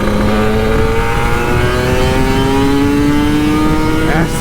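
Close, loud revving from a Kawasaki Ninja RR 150 motorcycle on a street, the high buzzing engine pitch rising steadily through a long pull with no talk over it.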